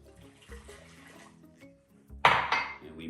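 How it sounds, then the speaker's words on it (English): Hot water poured into jello mix in a bowl, starting with soft clinks and handling noises and then a sudden loud rushing pour near the end, close by and without talk. "We put the pack of jello into there, and then 1 cup of hot water."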